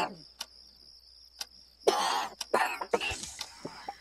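A person coughs in a radio drama scene, set outside the room: several harsh coughs and throat-clearing bursts in an uneven cluster, with a clock ticking softly in the quiet background.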